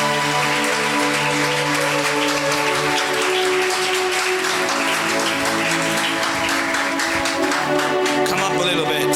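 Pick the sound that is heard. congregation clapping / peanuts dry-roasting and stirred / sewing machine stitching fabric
congregation clapping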